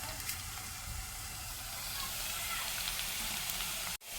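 Chopped green chillies frying in hot oil in a pan for an egg bhurji, a steady close broadband sizzle throughout, cut short by a sharp clatter near the end.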